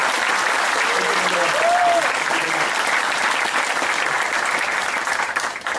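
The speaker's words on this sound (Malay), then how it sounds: "kita bagi tepukan dulu kepada" Sustained audience applause for Ceasar Mandela at a TN50 dialogue session in Monsopian, filling a hall with steady, dense clapping that holds loud throughout before easing slightly at the end.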